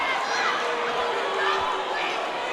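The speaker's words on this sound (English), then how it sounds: "Mixed reactions from the crowd." A basketball crowd in a high-school boys championship gym in Dover reacts to a blocking foul call, a steady mixed roar of cheers and murmuring throughout.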